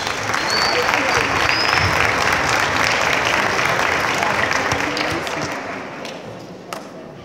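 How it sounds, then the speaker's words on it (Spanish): A large audience at Ecuador's National Assembly applauds loudly and steadily for a youth choir, a dense wash of clapping that slowly tapers off toward the end. "Recibamos con un aplauso al coro del Centro del Muchacho Trabajador."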